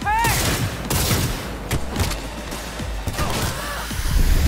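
Gunfire in the video game Cyberpunk 2077, loud bursts of shots repeating in quick clusters with booming impacts, mixed with game sounds and a player talking.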